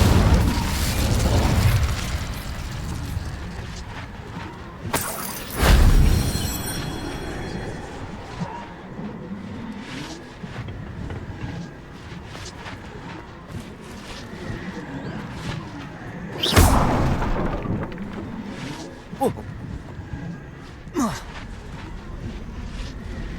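A fire spell bursts out in Hogwarts Legacy as a sudden loud whooshing blast, followed later by another sharp fiery burst, with mechanical rumbles and sparse combat sounds between them.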